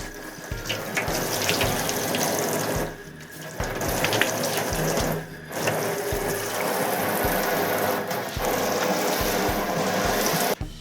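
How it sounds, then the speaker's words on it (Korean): Tap water runs steadily into a kitchen sink as it is rinsed, a close, continuous splashing rush with brief dips where the flow is interrupted, and no talking. "이렇게 헹궈 주기 힘든 부분들은 물로 흘려 보내주는 것도 좋은 방법입니다"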